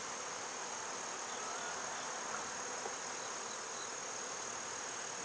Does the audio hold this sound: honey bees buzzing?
yes